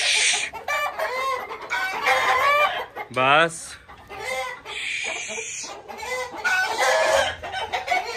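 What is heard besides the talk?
roosters crowing and chickens clucking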